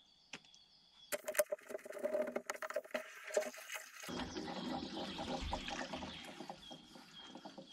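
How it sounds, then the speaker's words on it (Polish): Water released into a newly laid pipe line running to a terrace, rushing and gurgling steadily after a few sharp knocks and clatters in the opening seconds, close and fairly loud throughout the second half. "Leci. W sensie, że woda w rurze."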